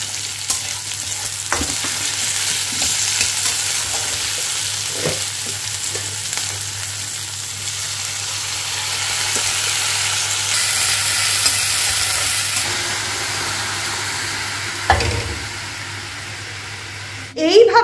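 Dal tempered with panch phoron five-spice sizzles steadily in a home kitchen, a continuous close hiss with occasional stirring clinks and a low hum underneath, a voice speaking now and then.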